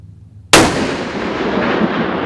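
A muzzle loader rifle fires a single loud, sharp shot toward a 1000-yard target, followed by a long rumbling echo that slowly fades over a quiet outdoor background.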